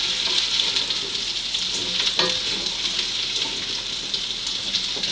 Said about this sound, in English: You can hear it sizzle, make little popping noises.